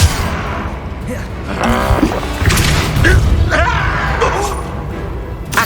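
Depulso spell impacts in Hogwarts Legacy, a busy stretch of booming hits, crashes and magical bursts in rapid succession, with voices shouting throughout.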